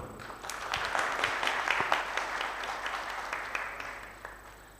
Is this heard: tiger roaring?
no